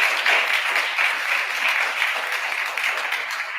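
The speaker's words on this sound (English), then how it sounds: "So let's give all of them a round of applause." Continuous applause from a large crowd at an inauguration day ceremony, a dense even patter of many hands clapping throughout.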